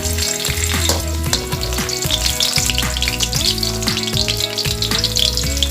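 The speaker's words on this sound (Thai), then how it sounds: "แรกก็น้ำมันร้อนแล้วนะครับผมก็จะเจียว กระเทียมก่อนนะครับ" Garlic frying in hot oil for a northern Thai chili dish, a loud, close, continuous sizzle with stirring, and a musical soundtrack running underneath.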